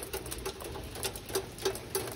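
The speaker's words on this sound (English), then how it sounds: "It is hailing." Hail falling outdoors, heard as sparse, irregular ticking impacts with a soft steady patter underneath, fairly close and moderately loud.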